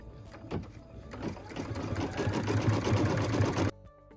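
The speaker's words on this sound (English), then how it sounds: "Step number 20 is stitching the decorative outline around all of the tree edges." A sewing machine stitches a decorative outline around the tree edges of a pieced quilt, running in a steady continuous whir that builds slightly before stopping abruptly near the end.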